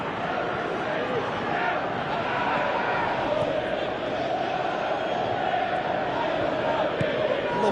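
A stadium crowd in the football video game PES 2017, a Master League match with Newcastle, murmurs and roars in a steady, distant wash while a commentator talks over it.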